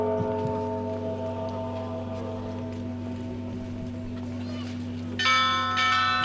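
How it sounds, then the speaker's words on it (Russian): Festive Easter pealing of the bells of the Holy Dormition Cathedral during a cross procession, steady ringing tones throughout with a brighter cluster of bells striking loudly near the end. "Движение крестного хода совершается под праздничный перезвон колоколов Святоуспенского кафедрального собора."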